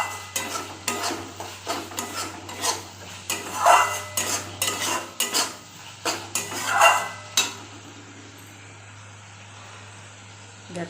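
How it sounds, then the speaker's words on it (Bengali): Spice masala for Bengali egg curry is stirred and sautéed in a pan, with a steady run of scraping and clinking from the utensil against the metal over a soft sizzle, close and fairly loud, easing off near the end. "দেখো মশলা ভালো করে কষানো হয়ে গেছে।"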